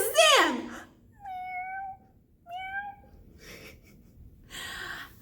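Children imitate cats with a few drawn-out meows, a rising voiced squeal first and then two separate meow calls, followed by breathy sounds, close and indoors.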